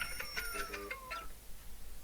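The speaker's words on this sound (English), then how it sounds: "you'll have to excuse me for my alarm" An alarm clock going off with a rooster crow tone, a short crowing call ringing out faintly in a quiet dark workspace and then fading.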